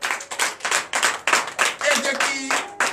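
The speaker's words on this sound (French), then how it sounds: "je vous demande d'applaudir très fort" Congregation at a Sunday church service in Comè, Benin clapping in unison, a strong regular rhythm of about ten hand claps, with voices and singing tones mixed in near the end.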